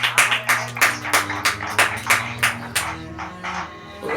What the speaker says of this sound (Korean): 자, 박수로 영광 드립시다.